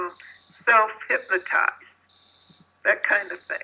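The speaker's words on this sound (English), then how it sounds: "We're having a little beeping episode here in the background." Faint electronic beeping sounds in the background, steady high tones that come and go, heard under a man's continuous speech.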